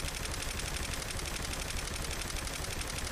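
Gunfire rattles nonstop in Saints Row the Third, a dense, loud barrage of automatic shots with no gaps, filling the whole stretch without any talking over it.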